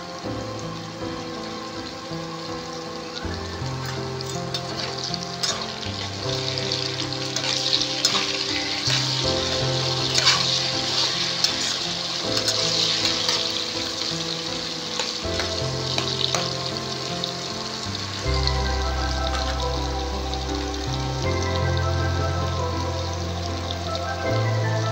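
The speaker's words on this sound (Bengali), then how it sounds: "আলু আমাদের ভাজা হয়ে গেছে।" Potatoes frying in hot oil with peanuts in a home kitchen: a steady, loud sizzle and crackle runs the whole way, with occasional stirring clatter and a low background hum underneath.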